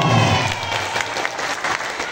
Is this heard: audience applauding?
yes